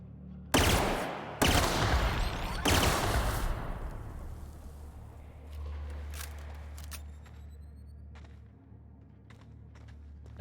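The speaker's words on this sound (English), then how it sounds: "I'm gonna bolter pistol them." Three heavy bolter pistol blasts from The Outer Worlds video game land close together near the start, loud and booming, each leaving a long decaying rumble, followed by quieter scattered game sounds and faint ticks.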